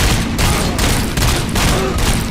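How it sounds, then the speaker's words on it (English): Dense, continuous gunfire in the game RoboCop: Rogue City roars throughout, a loud overlapping barrage of shots with a heavy low rumble beneath. "Hey, am I hearing gunshots?"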